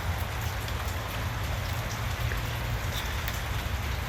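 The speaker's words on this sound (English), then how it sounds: "it's a beautiful rainy day" Steady rain falling, a dense even patter of drops on surfaces with a low rumble underneath, continuous and fairly close.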